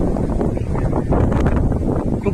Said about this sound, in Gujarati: અહીંયા ખૂબ પવન છે, ખૂબ સરસ પવન છે